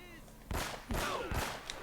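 Gunfire in the video game Uncharted: Drake's Fortune: three sharp, loud bursts spaced roughly half a second apart, each with a short echoing tail, over a faint background hum.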